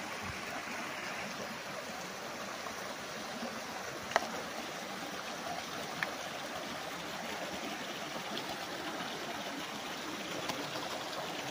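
Steady broadband rush of a small stream flowing continuously, with a couple of faint clicks on top; no voices.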